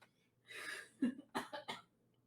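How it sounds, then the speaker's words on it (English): A producer coughs a few times in quick succession, with a throaty breath before the sharp, dry bursts. The coughs are fairly faint and slightly distant and stand alone without talk. "I made a producer cough"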